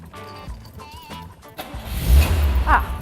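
An old green car's engine cranks and catches, rising from quiet into a loud, rough running rumble after a brief stretch of background talk and clatter.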